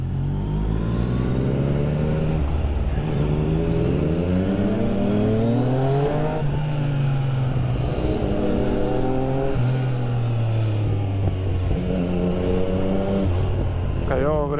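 A 2020 Yamaha MT-09 motorcycle weaves between cars in traffic, its engine rising and falling through repeated throttle sweeps and gear changes, close and loud, with someone talking over the ride.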